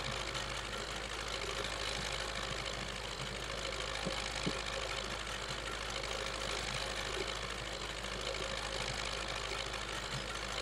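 A tractor engine idles and drones at a constant pitch in a farming video game, loud and steady with a faint mechanical rattle and no talking.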